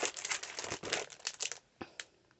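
Birthday wrapping paper crinkles and rustles in close, loud handling bursts that taper into a few quieter crumples, with no talking over it.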